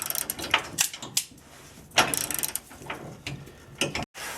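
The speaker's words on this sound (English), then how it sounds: "you want to have one person turning the socket and another holding the wrench in place" Rapid ratcheting clicks from a socket wrench turning a bolt on a rear frame kit, coming in several short bursts of close mechanical clatter with brief pauses between them.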